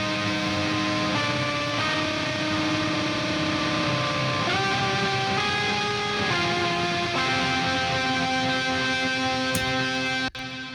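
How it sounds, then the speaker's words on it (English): A heavily distorted electric guitar through an amp with a POG octave pedal plays sustained chords with shimmering octave and reverb tails, loud and continuous, ending with a sharp cut. "want to hear the amp distorting all the tails of the effects"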